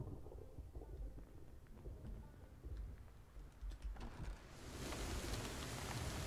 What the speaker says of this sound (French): Et il pleut bien.